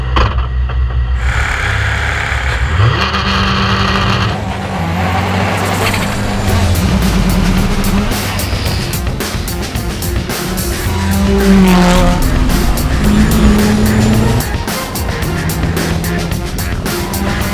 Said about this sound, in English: First up is the drag race, a quarter of a mile